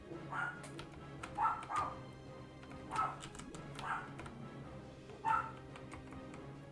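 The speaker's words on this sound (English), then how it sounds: "Oh boy, the dogs again." Several dogs bark and yip in the distance in irregular bursts, faint against a steady background hum.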